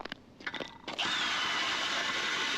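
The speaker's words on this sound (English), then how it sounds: "Got my electric drill auger combo set up" An electric drill-driven auger bores through roughly six inches of lake ice: a few short clunks and scrapes, then a steady, loud, continuous whirring grind that holds to the end, close by with no talk.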